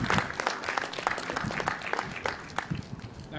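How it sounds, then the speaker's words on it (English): Scattered audience clapping at a school crowning ceremony for students, a moderate patter of hands with uneven claps standing out, heard from within the crowd. "Can you continue clapping your hands for a moment?"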